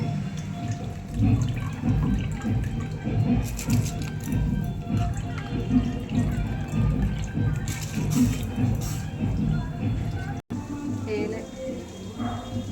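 Water boils in a cooking pot after soaked rice is added for biryani, with liquid bubbling and sloshing close by while a person talks over it.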